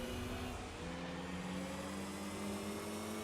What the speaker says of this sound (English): That TVR is fast.